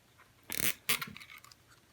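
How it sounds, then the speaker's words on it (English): A zip tie ratchets tight on an F450 quadcopter frame while LED lights are fitted: two short, close bursts of fast clicking with a quiet pause between them. "And get the zip tie started."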